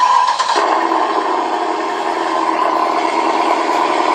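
A 1/14-scale RC truck's Beier USM-RC-3 sound module plays an engine cranking and starting, then settling into a steady, loud idle drone with no other sounds around it.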